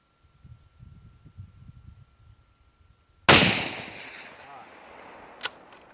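A single loud, close Ruger Hawkeye rifle shot cracks sharply and rings off into a decaying tail, with a brief sharper click shortly after.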